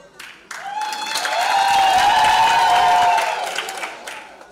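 Women of the ACT-Wazalendo party cheer and ululate at a political welcome, a high sustained trilling cry rising over crowd noise and applause, swelling loudly and then fading away.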